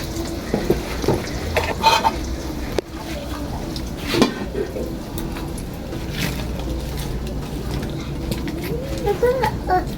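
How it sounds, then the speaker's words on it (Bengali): Eggs sizzling in hot oil in a wok for an omelette, a soft steady crackle with scattered stirring clicks, fairly faint. "কড়াইয়ে তেল গরম হয়ে গেছে এখন ডিম দিয়ে দেব"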